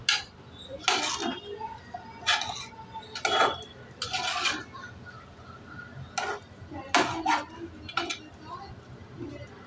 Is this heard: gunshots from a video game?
no